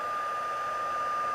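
A hair dryer blows steadily to dry shimmery paint on black cardstock, a constant close whirring hum with a faint high whine throughout.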